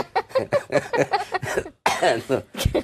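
A person with a viral cough on a live Hindi stock market broadcast lets out one short, harsh cough near the end of a stretch of speech, close to the microphone.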